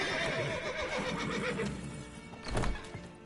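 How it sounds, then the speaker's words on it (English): Horses in Witcher 3 neigh and whinny, their hooves clip-clopping beneath a dense, continuous game mix, with a louder burst of stamping toward the end. "Gotta calm the horses before they leave the guards."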